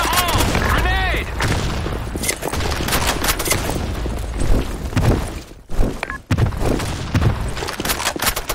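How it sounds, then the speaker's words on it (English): A grenade explodes in a video game amid heavy gunfire, dense booming blasts and crackling shots filling the scene loudly, with a voice heard over the chaos. "Fire in the hole! Grenade!"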